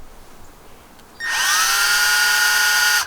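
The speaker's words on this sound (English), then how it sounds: "I just took the drill" After a moment of quiet, a power drill whirs up to a high, steady whine and runs for about two seconds before cutting off.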